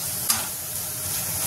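Ground masala of coriander powder, garam masala and red chilli powder roasting in oil in a pan, a steady close sizzle and hiss with one brief stirring scrape near the start.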